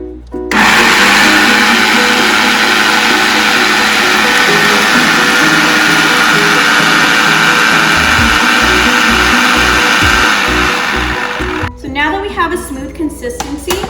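A blender motor runs loud and steady for about eleven seconds, whirring through basil pesto paste as olive oil is drizzled in, then cuts off into quieter clatter and handling sounds.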